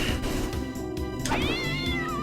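Cats meow from an attack cat spell in a video game, a rising, wavering meow standing out over loud, steady game music.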